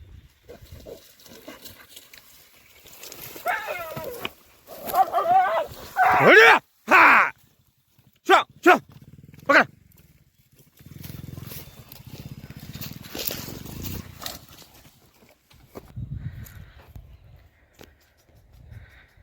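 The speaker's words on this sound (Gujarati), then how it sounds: "કુતરા ને રોજડા ની લડાઈ હોય એ જ" A dog fights a nilgai: loud yelps, grunts and squeals burst out in a scuffle, then quieter rustling and scattered low grunts follow.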